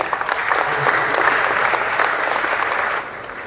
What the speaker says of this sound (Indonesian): Kita tepuk tangan untuk 500.